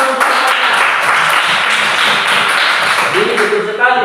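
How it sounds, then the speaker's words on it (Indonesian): A school class claps together, a loud, close, continuous patter of many hands lasting a few seconds, with a voice starting to speak as it ends. "Kasih tepuk tangan untuk semuanya."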